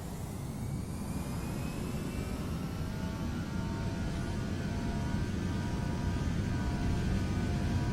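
Airbus A321 jet engines spool up for takeoff in the Prepar3D flight simulator, a steady, loud broadband roar with faint tonal whine lines, continuous and unbroken throughout.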